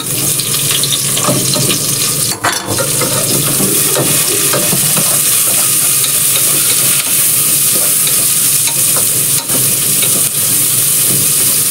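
Onion sautés in a pan for chicken tinola, making a loud, dense, constant sizzle close up, with occasional scraping and clatter as it is stirred, and no speech.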